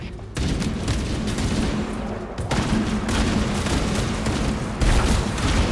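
Heavy, continuous gunfire and booming mortar-tank blasts from a Covenant vehicle assault in a Halo campaign battle, a loud, unbroken barrage with sharper bursts near the start, middle and end.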